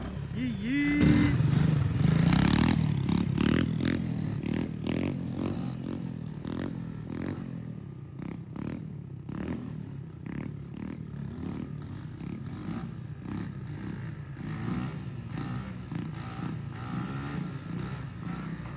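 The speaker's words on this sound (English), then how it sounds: "Got his muffler welded, his air filter changed, and he's out here wheeling." A 250cc motorcycle with a freshly welded muffler and new air filter revs hard while riding wheelies, its engine note rising and falling in repeated bursts over nearby shouting voices.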